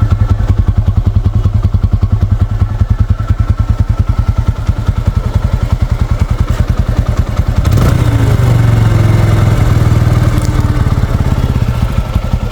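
A 2022 TVS Apache RTR 160 2V motorcycle engine runs steadily up close with a rapid, even exhaust pulse, loud and continuous, briefly revving higher around the middle before settling back.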